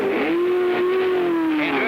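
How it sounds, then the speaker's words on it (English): A 1967 race car heading back onto the track during the Rex Mays 300, a loud steady engine drone with a sustained tone that rises slightly and then falls, close to the listener for the whole stretch. "And there goes Foyt on his way back into the race."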